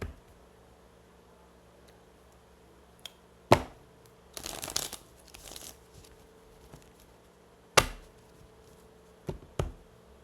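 Tarot cards shuffled by hand for a reading: a few short, crisp riffling bursts and a longer flurry of shuffling, close by and fairly quiet, with no talk.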